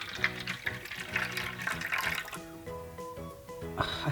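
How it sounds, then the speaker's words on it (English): Water is poured into a small bowl of tiny spaghetti, with a close, bubbling trickle and splashing running throughout the whole clip. "So we're gonna pour the water, and hopefully this little bowl is gonna be enough."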